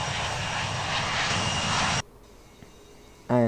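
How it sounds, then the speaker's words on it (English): Jet engine roar in the Infinite Flight flight simulator game, a steady, loud broadband rush that cuts off abruptly after two seconds, followed by quiet before a voice begins. "This one I fly beautiful jet."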